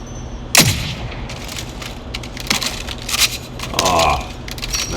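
Gunfire from a sniper rifle in the Warzone video game: one sharp, loud shot near the start, followed by a fainter crack and busy in-game rumble and movement sounds.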